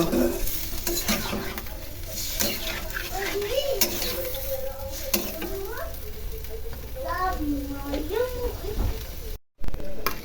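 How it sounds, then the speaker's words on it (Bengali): Ground fried onion, garlic, cumin and garam masala are stirred with milk, salt and turmeric in a pan. Steady sizzling runs under repeated scraping strokes, and voices, including a child's, can be heard in the background. "দুধটা দিয়ে সুন্দরভাবে কষায় নেব"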